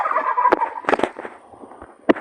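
Turkeys gobble close by in a rapid warbling burst, followed by a few sharp clicks and knocks and another short gobble near the end.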